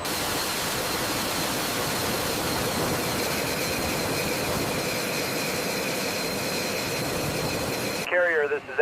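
F-2B carrier jet idling as it taxis toward a catapult on an aircraft carrier deck, a loud, steady, close roar with a thin high whine that cuts off sharply near the end.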